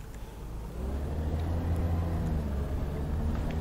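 A bus in the driving game OMSI 2 rumbles along with a steady low engine drone that swells slightly after the first second, continuous and close, with no talking.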